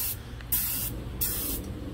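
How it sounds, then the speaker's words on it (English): An undercoating spray gun hisses in short pulsing bursts onto a tire, loud and close, about four surges over two seconds. "That's how much I've got spraying out."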